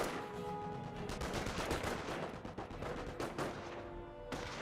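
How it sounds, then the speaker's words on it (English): A Company of Heroes rifle squad fires away in quick, crackling volleys mixed with bursts of machine-gun fire, steady and fairly close, with a few short pauses, no talk over it. "Rifle squad firing away."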